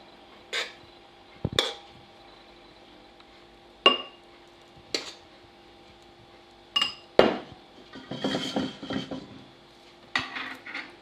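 A utensil scrapes and clinks against a bowl while beaten egg whites are folded into chocolate mousse. The sharp knocks are spaced out, with a softer cluster of scraping strokes in the middle.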